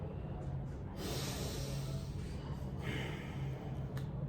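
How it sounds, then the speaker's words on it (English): Deep breathing during a banded hip mobilization exercise, a long airy exhale rising out of a quiet room and fading, with a shorter breath following, close and fairly soft. "Breathing, super important."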